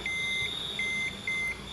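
A digital multimeter in diode/continuity buzzer mode, probing a dead smartphone board, gives three steady, clean electronic beeps in quick succession, close and clear against a faint background hum.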